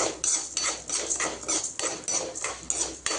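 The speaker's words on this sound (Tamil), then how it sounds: "துவரம் பருப்பு நல்லா வறுத்துக்கணும் ஃப்ரெண்ட்ஸ் எண்ணெயில்." Toor dal roasting in oil is stirred in a pan, producing regular scraping and rattling strokes about twice a second, close and moderately loud, with no voices.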